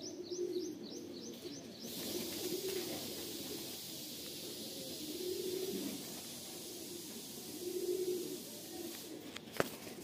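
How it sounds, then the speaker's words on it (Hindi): Rampuri pigeon, a long-flying breed, cooing in soft repeated phrases, each low burbling coo spaced a couple of seconds apart, close and fairly quiet, with faint chirps from other birds briefly at the start. "विनय भाई, ये 5 घंटे उड़े वाला कबूतर है"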